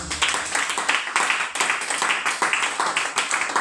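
A church congregation claps and cheers together in acclaim during a Sunday worship service, with dense, steady applause holding at a lively rhythm from start to finish and occasional sharper bursts.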